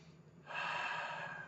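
A single slow meditative breath, a soft quiet inhale followed by a longer, louder airy exhale, close up and alone with no talking.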